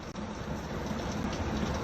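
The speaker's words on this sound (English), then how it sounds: "Here's rain pouring up north in Pala early in the morning." Heavy rain pours early in the morning in Pala, San Diego County, a steady, dense hiss of water hitting surfaces that stays close and continuous throughout, with no voices.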